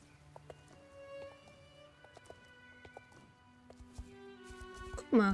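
Horse hooves clip-clop steadily during a cross-country ride off the path in the video game Star Stable Online, set against soft background music with faint scattered thuds.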